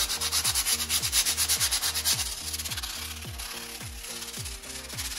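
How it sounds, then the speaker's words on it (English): Rhythmic back-and-forth hand sanding of a delaminated ski with sandpaper, a raspy scratching stroke repeating about twice per second, close and steady with no talking. "we're gonna sand it down with a sandpaper"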